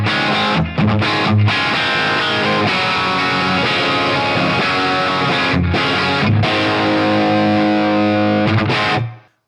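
Electric guitar played through the last driven preset of a BT PT50 pedal, giving a loud, sustained distorted tone with chords and notes ringing almost continuously, broken by a few brief gaps, then cut off at the end.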